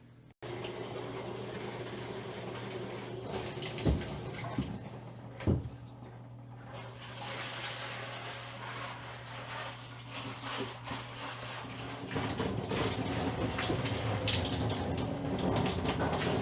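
Water poured over trays in an outdoor fodder growing system, a steady broadband splashing and pattering like rain, with a couple of brief louder knocks and the flow growing heavier near the end, no talking.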